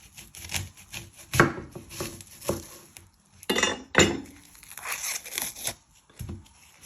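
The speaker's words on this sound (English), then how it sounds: "You're first going to chop your end off." A knife chops the end off an onion on a cutting board, giving a few sharp, close thuds and scrapes among quieter kitchen handling noises.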